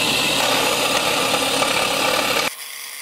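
Steady, loud, continuous power sanding of a wooden belt buckle, a close rough whirring that runs unbroken for two and a half seconds and then cuts off abruptly.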